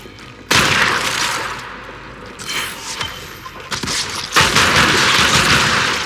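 Heavy weapon fire in Warframe tears into an alien hive in bursts, loud booming blasts and crackling impacts rising and falling, with a fierce final surge.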